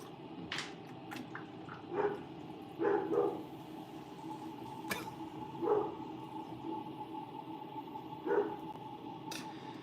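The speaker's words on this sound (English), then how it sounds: "Sounds like a vicious dog." A small dog indoors at a pottery studio barks in short, separated bursts of one or two yips, fairly faint and distant against a quiet background.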